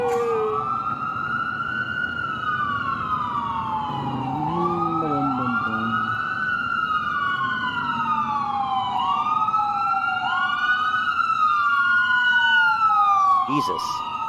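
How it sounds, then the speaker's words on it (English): A loud ambulance siren wails continuously in New York City, its rising and falling tone sweeping up and down over traffic rumble as the vehicle passes close by. "It's an ambulance."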